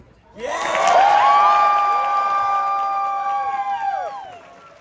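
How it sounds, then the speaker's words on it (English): A crowd at an anime convention panel bursts into loud cheering and shrill whoops with applause beneath, holding strong for several seconds before fading out. "How about a round of applause for Kirk Thorton?"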